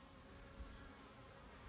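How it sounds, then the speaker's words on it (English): Bees buzzing around a small water feeder outdoors, a steady, faint, continuous hum with no talk over it. "We have bees in there."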